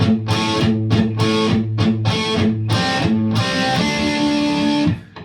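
Distorted electric guitar plays a classic rock riff with index-finger barre on two strings, loud chugging repeated chords in a steady rhythm ending on a sustained chord.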